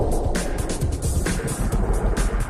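Tractor tug working in Vancouver harbor, a steady broadband rumble of engine and churning water holding at a constant level with no pauses.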